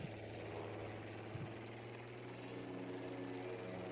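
Aircraft engine droning overhead in the World War II shooter game Battlefield V, a steady low hum that stays even and fairly quiet throughout, with no voices over it.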